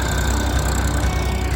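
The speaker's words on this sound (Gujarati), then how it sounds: "તો જો આ રીતે ટ્રેક્ટરથી પાળી કરવાની" Tractor engine running steadily while pulling a ridger through a castor field, a loud, continuous low rumble close by with no break across the stretch.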